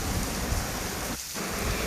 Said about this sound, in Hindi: लाहौर में इतनी तेज़ बारिश हो रही है